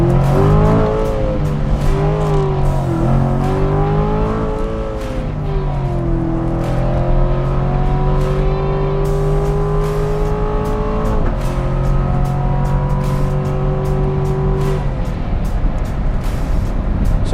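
A 2019 Corvette Grand Sport engine revs hard and pulls through rising and falling gears, loud and close, with a steady sustained roar and no talk.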